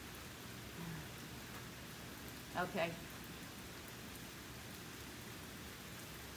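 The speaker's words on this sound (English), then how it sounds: "it is really raining" Heavy rain falls steadily outdoors during an exercise circuit, a constant hiss throughout with a brief spoken word near the middle.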